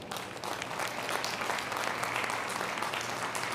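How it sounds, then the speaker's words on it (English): An audience at the christening ceremony for the submarine New Jersey (SSN 796) at Newport News applauds: sustained, dense clapping that is fairly faint and even throughout. "Give Elaine a round of applause."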